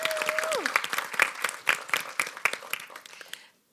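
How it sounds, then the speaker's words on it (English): An audience applauds at a 25th anniversary chapter event, dense clapping with sharp individual claps throughout, briefly over a fading tone at the start, then cutting off abruptly near the end. "So please give them a round of applause."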